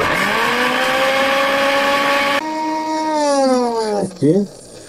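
A mixer grinder whirs at high steady speed, loud and close, then drops in pitch as it is switched off and spins down, with a brief pulse of motor at the end.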